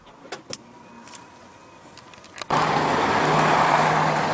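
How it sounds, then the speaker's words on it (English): On a 2015 Audi Q7, a few sharp latch clicks lead to the tailgate releasing, followed by a sudden steady whirring hum as it rises, close and alone. "Let's go ahead and pop the tailgate."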